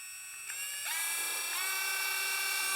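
A cordless Vevor rotary tool runs with a high, thin electric whine that rises in pitch in steps as the speed increases, loud and close throughout with no talking.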